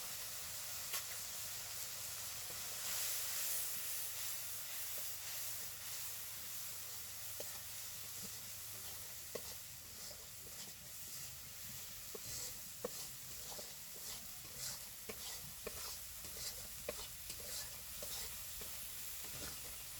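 Ground cumin, chili and turmeric paste sautéing in a pan for a Bengali pabda fish curry, a continuous hissing sizzle with frequent close stirring scrapes and small pops throughout.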